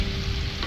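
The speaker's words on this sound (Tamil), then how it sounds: "நல்லா வதக்கிட்டோம்." Carrot, potato and brinjal sauté in a pan for sambar with a brief, continuous close sizzle and frying crackle.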